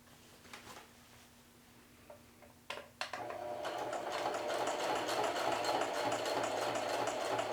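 A domestic sewing machine back tacks along a seam, running in a fast, steady whir after a few brief clicks and taps, close and continuous to the end.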